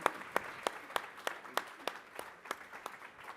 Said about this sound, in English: Big applause for Ruwido and Bouygues.